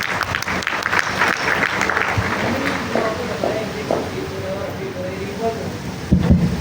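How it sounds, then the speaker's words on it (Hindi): Audience applause during a Python programming session, a steady wash of clapping that runs under a talking voice and continues throughout, with a brief louder bump near the end. "इनके लिए तालियां भाई।"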